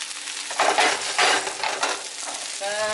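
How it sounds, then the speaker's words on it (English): Okonomiyaki frying in a pan gives a steady, loud close-up sizzle with bursts of crackling and spattering, broken by brief stirring or scraping sounds. "once you hear those sizzling sounds"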